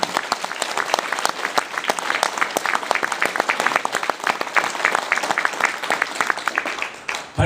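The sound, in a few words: audience applause at a lecture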